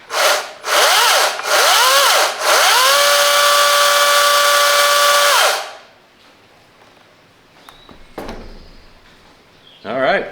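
A Wild Badger 14-inch 40V cordless chainsaw revs in short bursts and then runs steadily with a whining pitch before spinning down. Quieter handling clatter follows, then a brief rev at the end.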